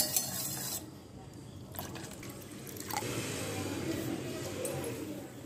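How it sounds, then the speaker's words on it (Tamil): Water is poured into whisked curd to thin it into buttermilk for a Tamil Aadi koozh recipe, giving a steady splashing, filling sound that runs throughout under light background noise. "தண்ணி நிறையா ஊற்றி"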